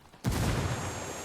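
A video game explosion goes off after a brief quiet moment, a sudden loud broadband blast followed by a sustained roar of rumbling, crackling debris and fire that stays loud to the end.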